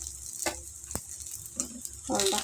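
Paniyaram batter frying in a pan gives off a steady close-up sizzle with a few sharp pops and crackles, rising slightly toward the end.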